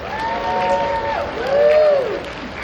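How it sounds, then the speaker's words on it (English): Audience at a career conference applauding as recruiters stand, a continuous clapping wash under loud cheering and whooping voices. "Give yourself a round of applause."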